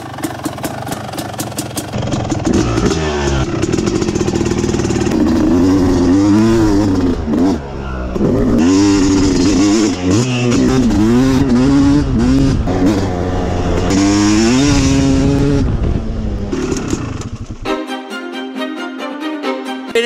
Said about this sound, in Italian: di solito vado a farmi un bel giro in moto fino al fiume